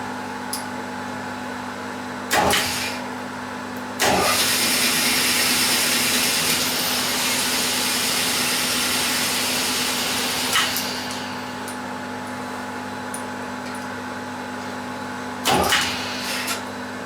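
A honing machine deglazes the cylinders of a seized Kubota tractor engine block, giving a steady mechanical whir and hum with a few louder clunks and bursts as the tool engages.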